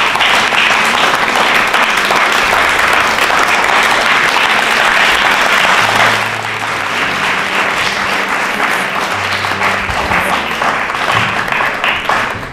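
Quiz show audience at a state-level election quiz round clapping loudly after a correct answer, a sustained roar of many hands that eases slightly midway and keeps going, with a faint low hum underneath.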